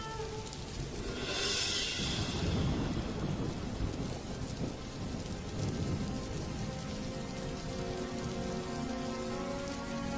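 Steady rain hisses and patters on surfaces during a monsoon storm, and a deep roll of thunder swells early before the downpour carries on alone.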